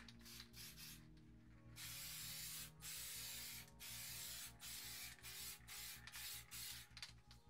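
An aerosol can sprays cheap car paint in a series of short hissing bursts, then longer sustained sprays, close up, with a quiet mechanical ticking underneath and no voices.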